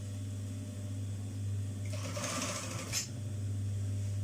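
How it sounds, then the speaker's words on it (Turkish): A sewing machine running a zigzag stitch on a denim jeans hem, a single short burst of fast mechanical stitching that starts and stops abruptly over a low steady hum. "Zikzağımı atarak başlıyorum."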